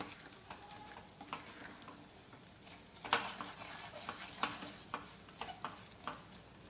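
A spoon stirs a thick desi jaggery mixture for farali sukhadi in a pan, giving soft scraping strokes with a few sharper knocks against the metal and a faint sizzle beneath, alone without talk.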